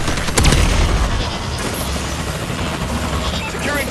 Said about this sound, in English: Warbird support requested